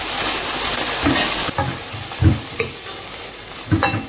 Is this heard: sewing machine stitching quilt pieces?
no